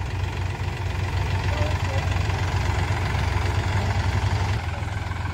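Force Balwan 405 three-cylinder 40 hp tractor reversing, its engine running steadily with a low, continuous rumble and throb, close and loud throughout, dropping slightly near the end.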